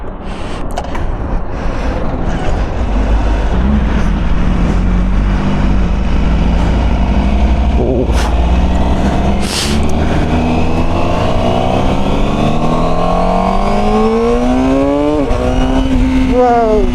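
A 2025 Honda CBR1000RR-R Fireblade with an Akrapovič full-system exhaust idles and revs, the engine pitch climbing and sweeping through several rising and falling revs, loud and close.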